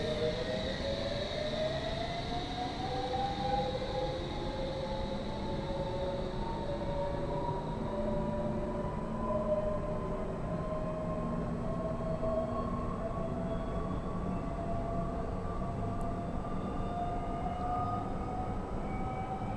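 Simulated London Underground Metropolitan Line train running in Train Simulator 2020, a steady loud engine and motor drone with rising whine tones and rumbling wheels, continuous throughout.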